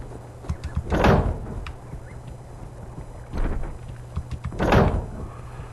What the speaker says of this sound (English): Door after door after door after door.